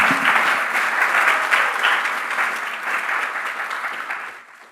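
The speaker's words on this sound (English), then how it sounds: "Students, please take a moment to honor your family and supporters with a round of applause." Students at an awards ceremony applaud their families and supporters: a burst of dense, continuous clapping from a large room that holds steady, then fades out near the end.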